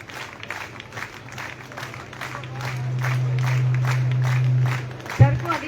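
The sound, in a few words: audience applause at a college convocation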